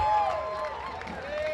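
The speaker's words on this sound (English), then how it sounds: "And that is probably the loudest we've heard the crowd so far tonight." A crowd at a summer collegiate baseball game between the Medford Rogues and Humboldt Crabs at Arcata Ballpark roars and cheers loudly in a sustained wash, with a whistle-like tone sliding over it and a voice talking.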